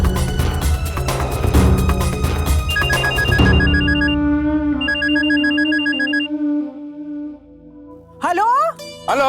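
A telephone ringing in a Hindi TV serial, a repeating electronic ringtone of short tonal bursts that plays over music, followed by a voice speaking near the end.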